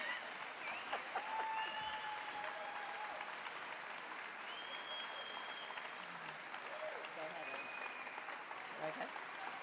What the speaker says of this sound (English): We'll clap all night for Marcie